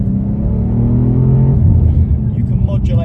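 BMW M4 xDrive engine roaring loudly nearby, a deep sustained rumble with rising harmonic pitch as the throttle is worked, ending with voices speaking over it.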